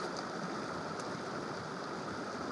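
Mountain stream flowing beside the Henry's Fork trail below King's Peak, a steady close rushing and gurgling of water with no break, loud and alone.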